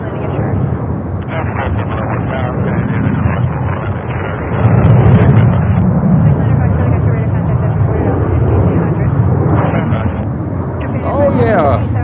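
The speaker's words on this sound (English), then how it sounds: "the powerhouse 767-300 CFM6 power. Bring this thing up in the air." Boeing 767-300 with CFM6 engines taking off at JFK airport in New York, a loud sustained broadband jet roar that swells slightly midway and holds steady, with wind buffeting the microphone.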